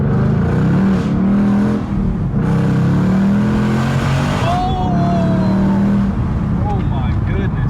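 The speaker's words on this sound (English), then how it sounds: "So here's a little dead stop pull for you." A boosted 2017 Ford Mustang GT launches hard from a dead stop, its engine roaring loud and close as revs climb and shift, with a brief tire-spin squeal and voices talking over it.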